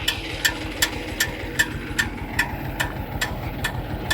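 Kentavr 244SX tractor engine on the drive to the fields, a close steady diesel rumble with regular sharp ticks about every half second.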